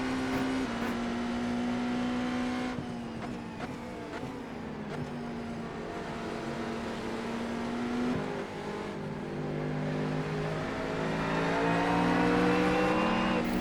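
Race car engine in a racing video game, closing in on a Ferrari: a steady, loud engine drone with pitch rising and dropping through gear changes and revs, with faint tire noise, and no voices.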